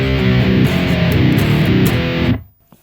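A heavily distorted electric guitar plays chugging metal riffs with the bass dialed back, sounding thin and lacking low-end punch. It is loud and continuous for over two seconds, then cuts off abruptly.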